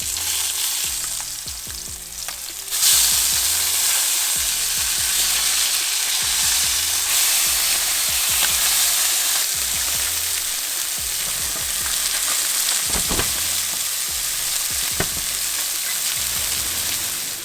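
A sea trout fillet sears in a hot pan with a loud, steady, close sizzle that jumps up partway through, broken by a few scraping and clinking touches, and no voices.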